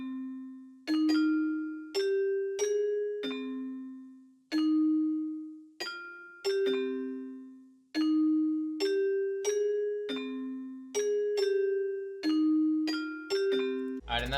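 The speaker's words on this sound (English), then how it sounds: "that bell is from the GM normal tab called Music Box." A music box bell patch from a General MIDI bank in an Asian rock beat, playing a slow, bright melody of single chiming notes that ring and decay between strikes, clear and alone.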